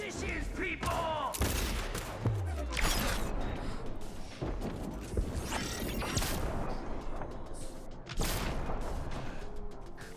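Dense, rapid bursts of heavy gunfire from a big gun in Cyberpunk 2077 mix with mechanical clanks and impacts, loud and continuous for ten seconds with a faint voice underneath.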